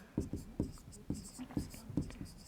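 Chalk or marker writing on a board during a maths lesson, a string of short taps and strokes at an uneven pace, close and clear while a teacher talks quietly.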